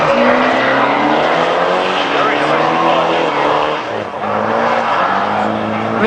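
A Nissan Skyline R33 drift car on track at Lydden Hill, its engine roaring loud and steady with rising and falling revs as the clutch is kicked, while a commentator talks over it.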